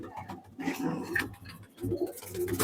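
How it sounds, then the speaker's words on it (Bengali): Kalinka pigeons in a loft coo in low, throaty, rolling bursts, several close birds overlapping in short repeated phrases with no one talking. "এইসব সব কালিঙ্কাই পায়রা।"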